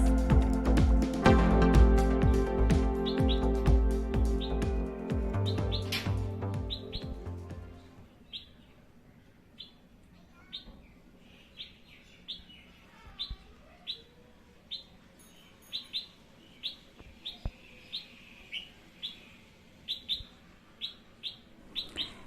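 A female red-whiskered bulbul sings sharp, repeated whistled notes at a regular rhythm, clear and fairly close, after louder music fades out in the first seconds.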